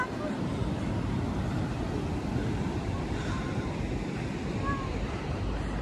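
Ocean surf rolls steadily at a beach in Guarujá, Brazil, a continuous near wash of breaking waves with wind rumbling across the microphone throughout.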